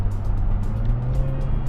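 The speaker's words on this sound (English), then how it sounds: "that V6 is an absolute masterpiece." A Jaguar F-Type sports car's V6 engine hums at a steady, low, even drone, close and continuous with no voices.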